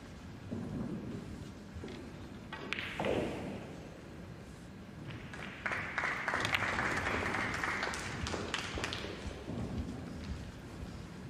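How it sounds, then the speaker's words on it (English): Applause from a neighbouring table at the 2022 UK Open Pool Championship, a 9-ball match; scattered clapping swells in the middle and carries on steadily at a moderate distance beneath the low hum of the arena. "The applause on the other table is because Alexa Pachel, she's over a 9-ball to move to the hill against Joshua Filler."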